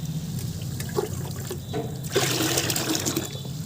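Water pours steadily into a container to dilute liquid plant fertilizer, a continuous splashing trickle that grows louder and fuller partway through, close and with no talk.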